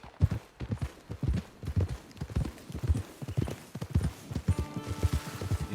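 Horse hooves clip-clopping in the video game Red Dead Redemption 2, a steady walking rhythm of close, hollow thuds continuing throughout, with a faint tonal game sound near the end and no talking.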